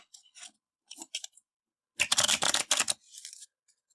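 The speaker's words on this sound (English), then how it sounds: "Give it a shuffle here." A few soft flicks, then a second of rapid riffling card noise, followed by a lighter shuffle; close and fairly quiet.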